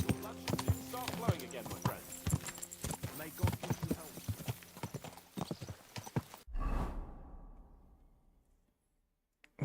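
Horse hooves in the video game Kingdom Come: Deliverance 2 clip-clop in a quick, uneven rhythm, then stop with a thud and fade to silence.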